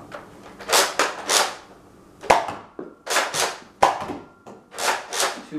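A Nerf Rival Hades blaster fires single shots, giving a series of short, sharp whooshing pops spaced roughly half a second to a second apart, with a few crisp impact cracks mixed in, close and moderately loud.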